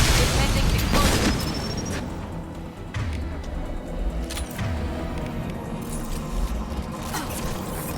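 Explosions in Mass Effect 2 Legendary Edition, a heavy booming blast that opens loud and is followed by rumbling aftershocks and scattered impacts, under a voice talking.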